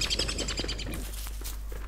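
A bird in the video game Don't Starve gives quick repeated chirps and tweets over a dense, close game soundscape, with no talking.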